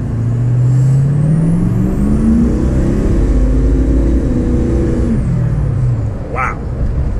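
A 6.0 Powerstroke diesel truck with an upgraded turbo pulls hard to the speed limit, its engine note climbing steadily in pitch through the run, loud and close from inside the cab, before easing off near the end.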